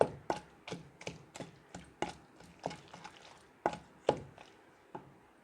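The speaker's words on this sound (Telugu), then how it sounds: "టమాటాలు బాగా మెదిగే వరకు దంచుకోవాలి" Tomatoes, green chillies, tamarind and salt pounded in a stone mortar for okra and tomato chutney, a series of about a dozen sharp, close thuds at an uneven, steady pace with nothing else around.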